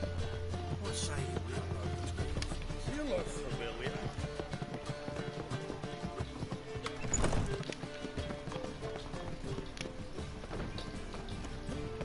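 In The Witcher 3 video game, a horse gallops with steady, rhythmic hoofbeats throughout, blended with game ambience and voices.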